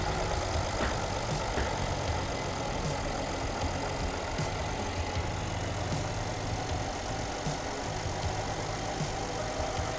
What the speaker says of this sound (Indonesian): Kita hidupkan mesinnya ya. Oke, running engine.